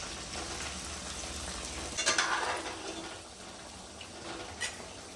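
Sliced brinjals sauté in oil for ennai kathirikai kuzhambu, a soft, steady sizzle broken by a couple of brief scrapes and clinks of a spoon against the pan.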